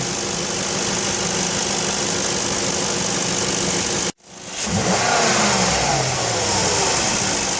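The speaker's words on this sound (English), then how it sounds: "I'll give it a quick rev to see if this MAF sensor is operating according to the throttle" A car engine runs steadily, cuts out briefly, then revs quickly as the throttle is pressed and settles back, all close up and loud while a MAF sensor is tested.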